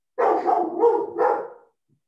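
A protective house dog lets out a run of two or three quick, gruff barks close by, loud and clipped, ending abruptly into silence.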